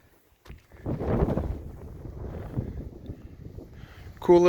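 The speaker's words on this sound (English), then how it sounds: "it's really windy, so kind of hear the wind blowing" Strong wind gusting across an exposed trail along a steep hillside near the top of a mountain in Denali's Rock Creek area, a loud, steady low rumble of wind noise buffeting the microphone.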